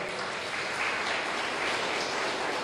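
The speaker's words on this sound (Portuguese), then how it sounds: "Você pode aplaudir o Senhor Jesus por ela?" A church congregation applauds during an online Sunday thanksgiving service, a soft, even wash of many hands clapping that stays constant and fairly distant throughout.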